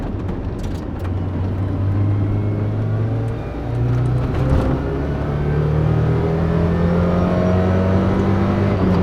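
Mazda Miata held at full throttle climbing uphill, a strong continuous engine drone with rising tones as it pulls, steady and close throughout.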